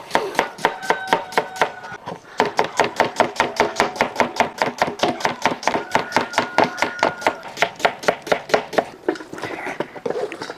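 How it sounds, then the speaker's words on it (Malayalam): Onions sliced thinly with a knife for Hyderabadi biryani: a long, steady run of crisp, evenly spaced chops on a cutting board, close and loud, with a brief pause near the start. "ഈ സവോള നമുക്കൊന്ന് കനം കുറച്ചരിഞ്ഞെടുക്കാം"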